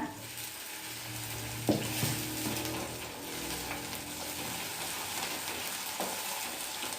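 Chopped tomato goes into a pan of beet greens, giving a quiet, steady sizzle with a few scraping stir strokes and light clinks of a utensil against the pan.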